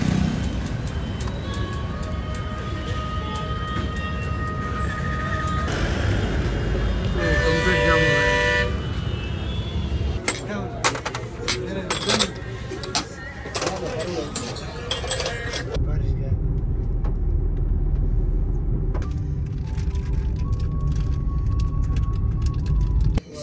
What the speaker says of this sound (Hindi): इधर देखो बहुत ट्रैफिक जाम हो गया है